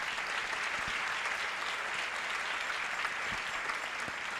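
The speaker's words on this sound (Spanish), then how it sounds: "Un aplauso a Nuestra Señora." A church congregation applauds in honor of Our Lady, a steady, dense wash of many hands clapping at moderate distance, sustained evenly with no speech over it.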